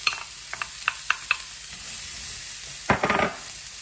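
Onions sauté in a pan with butter under a faint, steady sizzle, broken by several light utensil taps early on and a louder burst of scraping and stirring near the end.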